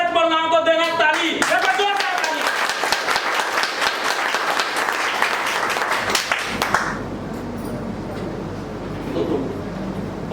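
An audience at a business leaders' meeting bursts into sustained clapping and applause, dense and steady for several seconds before fading into a quieter room with a voice speaking.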